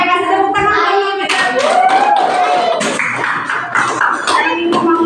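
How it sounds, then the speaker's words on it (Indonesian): Children in a classroom clap their hands together in a short burst of scattered applause, mixed with a voice and some chatter. "kasih tepuk tangan dulu"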